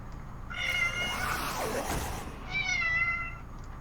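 A cat in the Hearthstone video game gives two distinct, clear meows, each lasting about a second, with a brief gap between them and no voices over them.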